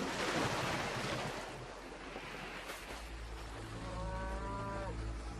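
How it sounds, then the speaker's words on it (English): A herd of cattle lowing on a shore, long drawn-out moos rising and falling at moderate distance over a wash of surf and waves. "Around them, the herds of Helios, the fatted calves, cows, sheep, and lambs, are resplendent and a sight to behold"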